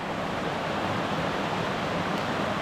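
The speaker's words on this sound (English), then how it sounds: "we made it back to Whitaker Creek" Whitaker Creek in the Upper Buffalo Wilderness, running high after rain, gives off a steady, close, full rushing wash of flowing water with no breaks and no voices.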